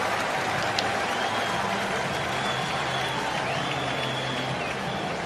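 A cricket crowd at Lord's in a World XI versus West Indies match applauds and cheers steadily after a six, a broad even wash of clapping and crowd noise heard from a distance.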